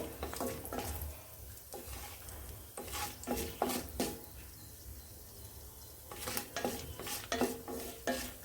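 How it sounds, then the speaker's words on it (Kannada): Dry red chillies frying in tempering oil for a raw banana and green pea palya, with a steady soft sizzle under repeated scraping stirs of a spoon against the pan, close and fairly quiet, with no talk. "ಒಣ ಮೆಣಸನ್ನ ಹಾಕ್ತಾಯಿದ್ದೀನಿ ಎರಡು ಒಣ ಮೆಣಸನ್ನ ತಗೊಂಡಿದ್ದೀನಿ ಒಗ್ಗರಣೆ ಆಲ್ಮೋಸ್ಟ್ ಆಗ್ತಾ ಬಂತು"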